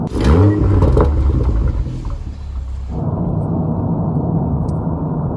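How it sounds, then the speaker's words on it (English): BMW M340i with its exhaust valves open, revving loudly up close with a rising, crackling roar that then settles into a steady, throaty drone. "when that exhaust note opens, when the valves open"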